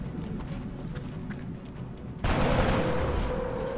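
Gunfire in the video game XCOM: Enemy Within, low rumbling background that gives way to a sudden loud burst of shots and sustained noisy blast near the end.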